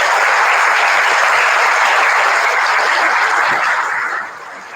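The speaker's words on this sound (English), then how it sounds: "Let's give a massive round of applause for our next speaker, Kadi." Conference audience applauding a speaker, a loud steady wash of many hands clapping close by that holds for about four seconds before dropping off abruptly.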